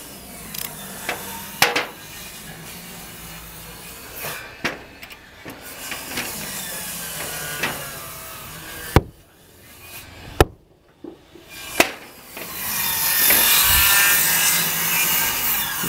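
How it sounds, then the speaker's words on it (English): Sharp, heavy thuds strike a log being driven into place in an old log cabin wall during restoration, scattered irregular impacts with scraping and knocking between them, and a few loud blows near the middle. "Dan, we're gonna start pounding this log in here"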